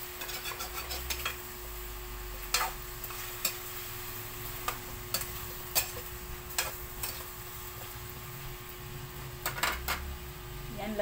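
Home-cooked Filipino dish frying in a pan while a spatula stirs and mixes it with added pepper: a steady low sizzle under a hum, broken by sharp intermittent scrapes and clinks of the utensil against the pan.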